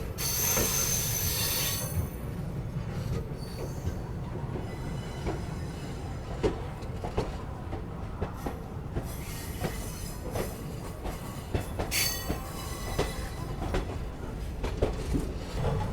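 Shalimar Express passenger train pulling out of Ghaziabad toward Delhi, heard from on board: a steady loud rumble of wheels on rail with repeated clacks and bursts of wheel squeal, continuous for the whole stretch.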